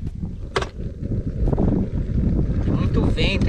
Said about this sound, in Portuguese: Tem muito vento aqui, galera.